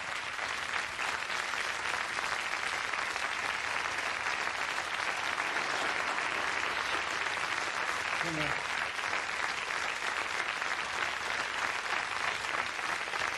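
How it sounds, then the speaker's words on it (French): Studio audience on a 1994 French TV show applauding steadily and densely for the full stretch, a sustained wash of clapping at even loudness. "Je peux applaudir Madame Jarre"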